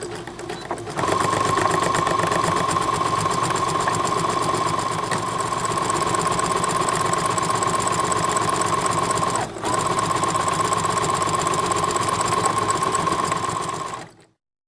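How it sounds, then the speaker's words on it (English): A sewing machine runs a zigzag stitch along the raw edge of a seam on a colonial costume dress, a steady rapid whirring hum that pauses briefly midway, then resumes and stops. "we're going to zigzag stitch right along this raw edge to finish that seam"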